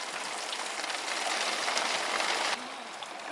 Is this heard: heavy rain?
yes